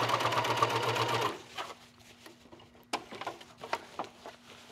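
Coverstitch machine sewing fabric with elastic thread for ruching: a fast, steady mechanical run of rapid stitching for about a second, then stops, followed by soft handling clicks and a low hum.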